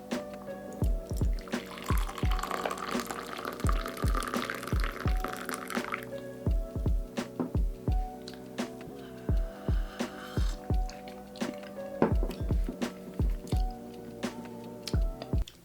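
A Ratio 6 coffee brewer drips brewed coffee into its carafe. Steady soft drops and trickles fall over a low machine hum, with a brief gurgling pour early on.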